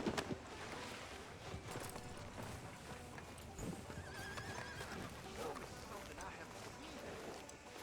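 Horse hooves clip-clop steadily with an occasional whinny, under ongoing talk, in the video game Red Dead Redemption 2.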